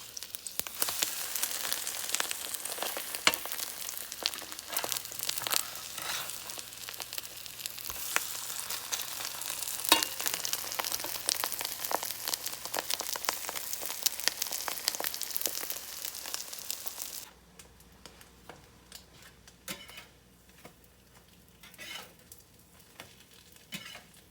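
Eggs fry in a pan beside rice with a loud, steady sizzle for most of the stretch, then the sizzle drops abruptly to a faint crackle.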